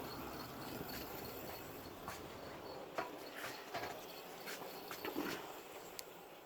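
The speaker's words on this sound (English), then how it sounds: "So now I've got 5 trains running round at the same time." Five Hornby DCC model trains run around a layout at once with a steady low rumble, rhythmic clickety-clack of wheels over rail joints, and scattered light clicks and squeals, faint and continuous.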